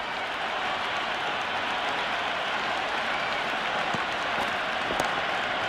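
A stadium crowd in the Cricket 26 video game, India versus England in a T20 match, gives sustained loud applause and cheering, a continuous wash of clapping with no break.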